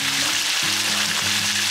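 Spices with Kashmiri chili powder sizzle in a frying pan of oil for a chicken dish, a steady close hiss with faint stirring and no voices.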